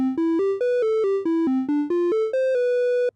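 Bright, pure square-wave-like Pico-8 chiptune tones step up and down a short melody, some notes separated by tiny gaps, others gliding straight into one another with legato.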